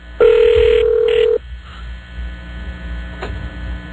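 Studio telephone ringing in a radio show setting: one loud electronic ring tone in two bursts at the start, then low hum and faint background noise.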